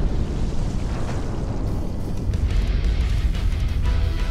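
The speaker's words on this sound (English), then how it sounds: "I know enough about explosions to recognize one!" An explosion in a video game sets off a dense, rumbling roar that fills the whole stretch and holds steady and loud, then thins slightly partway through before swelling again, with no voices over it.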